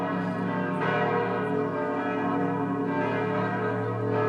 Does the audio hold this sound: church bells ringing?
yes